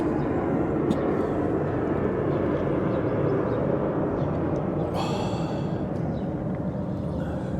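An airplane taking off, heard as a steady, loud broadband engine roar that stays constant throughout, with a brief higher whine partway through.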